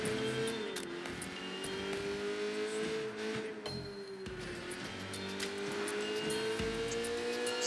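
A car in Sleeping Dogs drives with a steady, rising engine drone, and short tire squeals cut in along the way.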